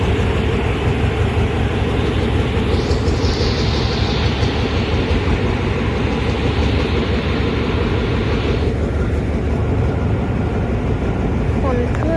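Ordinary passenger train 254 pulls into Ratchaburi station with a loud, continuous rumble and rolling wheel noise that stays steady for the whole stretch, while voices can be heard in the background.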